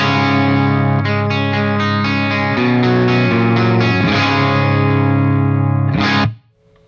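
Instrument played through the clean channel of a Steavens The Brick preamp: a loud, sustained chordal passage with rich harmonics and a slight shimmer, ending in a short bright squeal before cutting off.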